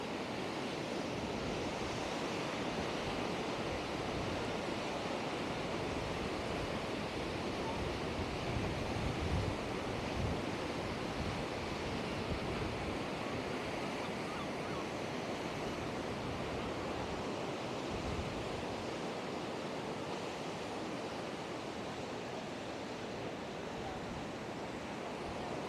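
Ocean surf at Blackpool beach washes continuously onto the shore, a broad steady roar with gentle swells and some wind, no voices.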